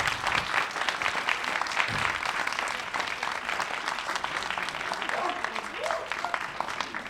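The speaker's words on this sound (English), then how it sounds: "I'd like you to give them all a big round of applause" An audience claps after a speaker's introduction at a spoken-word performance event, a dense, steady round of applause lasting several seconds with a few brief vocal sounds near the end.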